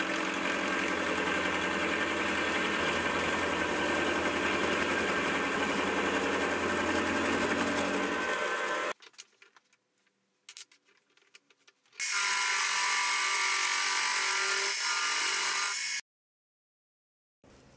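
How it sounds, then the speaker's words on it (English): A milling machine facing off a steel piece with an end mill, with a loud, continuous cutting and motor whir that stops abruptly, leaving near silence, then resumes for a few seconds before cutting out again. "so I'll use an end mill to face it off"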